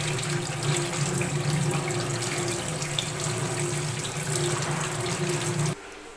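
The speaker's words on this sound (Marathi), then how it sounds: "मी मटण स्वच्छ पाण्याने धुवून घेतलं बघा" Mutton is rinsed in a colander under a running tap: a steady, close rush of water splashing over the meat for several seconds, which cuts off abruptly near the end, leaving a quieter room.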